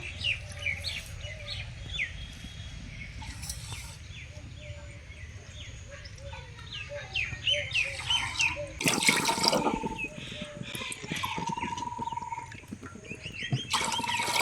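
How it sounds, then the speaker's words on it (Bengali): Water is poured into a pot of sugar to make syrup in a home kitchen, a couple of splashing gushes amid quieter clinks, with birds chirping faintly in the background. "ওই বাটি দিয়ে আমি 4 বাটি জল দিয়ে দেব।"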